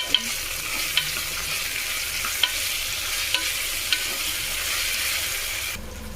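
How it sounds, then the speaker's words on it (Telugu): Ginger garlic paste fries in a pan with a steady, close sizzle, while a few sharp ticks of a utensil scraping or tapping land at irregular intervals and the hiss cuts off near the end. "1/2 టీ స్పూన్ అల్లం వెల్లుల్లి పేస్ట్ వేసుకోవాలి. బాగా వేగనివ్వాలి."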